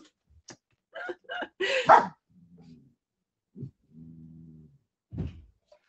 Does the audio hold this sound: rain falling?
no